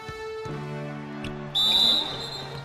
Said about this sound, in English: And the officials whistle a foul on the shot.